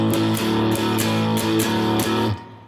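An electric guitar plays a shuffle rhythm in A, an even, repeating chugging pattern of plucked chords that rings out, then stops abruptly.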